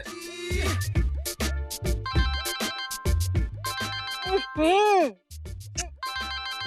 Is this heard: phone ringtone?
yes